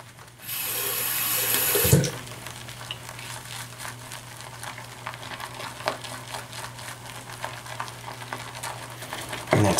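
Water is added to a thick shaving soap lather, which churns with a wet, bubbly crackling and stirring sound, close and steady, after a brief splash of running water at the start.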